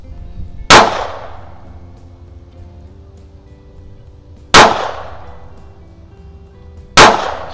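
Three sharp, loud shots from a WW2-production JP Sauer 38H .32 ACP German pocket pistol at a range, spaced several seconds apart, each cracking close by and ringing off briefly with no talking.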